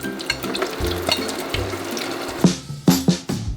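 Shrimp tempura frying in hot oil in a home kitchen, a steady close sizzle with clattering bursts and sharp knocks near the end, no talking.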